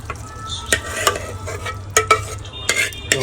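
A spoon stirs masala gravy into chili and tomato curry in a sizzling pan, scraping and clinking against the metal at irregular moments over a steady low frying hiss.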